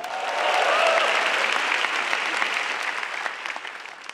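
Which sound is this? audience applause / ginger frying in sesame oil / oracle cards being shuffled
audience applause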